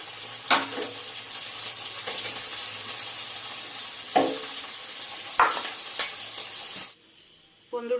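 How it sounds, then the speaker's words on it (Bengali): Fish frying in a pan, a steady close sizzle with a few louder crackling pops and spatters, then the frying fades to quieter background noise near the end. "মাছগুলো এখন এখানে ভাজতে থাকবে"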